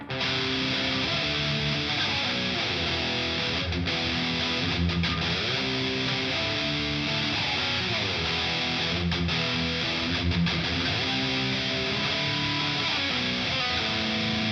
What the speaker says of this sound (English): Now I'm going to crank it up with the distortion so it sounds like this.